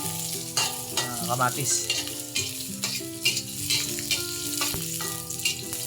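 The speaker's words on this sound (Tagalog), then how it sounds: "Haluin lang natin hanggang maluto maigi" Pork and onions fry in a pan while being stirred, a continuous close sizzle overlaid with scraping utensil strokes; a voice speaks briefly.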